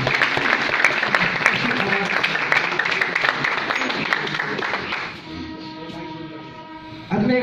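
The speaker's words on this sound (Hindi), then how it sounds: "मैं जोरदार तालियां दूँ।" Crowd claps loudly and steadily for about five seconds at a motivational seminar, then the clapping fades into quieter, tonal sound and a sudden loud burst near the end.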